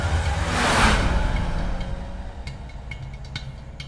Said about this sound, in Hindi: गाड़ी यहां से आगे निकल गई